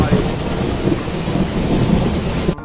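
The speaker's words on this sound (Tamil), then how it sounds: "அந்த பக்கம் மழை அடிச்சு பெஞ்சிக்கிட்டு இருக்கே" Heavy rain pours down in a dense, steady roar close by, constant throughout and cutting off abruptly at the end.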